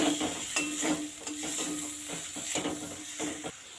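A pan of lata fish curry being stirred as salt is mixed in, with quiet scraping strokes and clinks over a soft, steady sizzle heard from close by.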